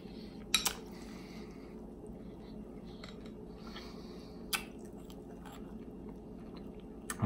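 Someone eats a bowl of Fruity Pebbles cereal soaked in ginger ale, with quiet crunching and chewing, a few sharp spoon clinks against the bowl, and low background hum.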